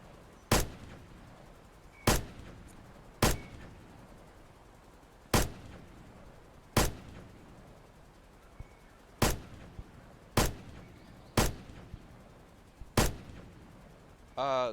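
Ten sharp gunshots ring out at irregular intervals from a gun in a shooting video game, each a loud close crack with a short decaying tail, spaced one to two seconds apart.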